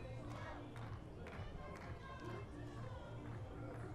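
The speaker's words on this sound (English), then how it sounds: "the Iranian contingent trying to cheer on Vida Halimian" Iranian supporters cheer and shout at a women's compound archery semifinal in Istanbul, a busy crowd murmur with scattered calls and claps, fairly faint and distant.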